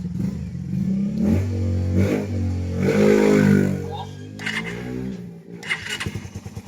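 A motorcycle engine cranks and starts up close, running roughly before settling into an uneven, sputtering idle.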